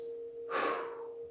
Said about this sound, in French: là, je fais attention à ma respiration.